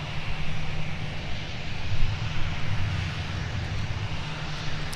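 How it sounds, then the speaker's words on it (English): Delta Airbus A330-300 heavy airliner, an ex-Northwest airframe arriving from Amsterdam, touching down at Minneapolis–St Paul airport: a steady, distant roar of jet engines with low rumble, fairly even throughout with a slight swell midway. "So we just caught a glimpse of 163 Heavy for Delta touchdown with the A330 300NX Northwest airframe"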